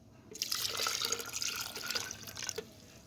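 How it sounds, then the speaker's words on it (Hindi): Half a glass of water poured into tamarind pulp and sugar for plum juice, a steady close splashing pour of about two and a half seconds with no talk. "तो इसमें हम डालेंगे आधा गिलास पानी।"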